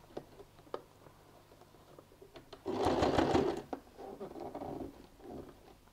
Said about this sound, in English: And just go and sew an edge stitch.